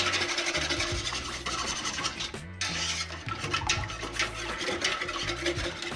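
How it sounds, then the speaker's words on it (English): Half and half is stirred vigorously into a macaroni and cheese mix in a large pasta pot, a continuous close scraping and rasping with a steady rhythm and a brief pause midway. "And viciously stir your mix."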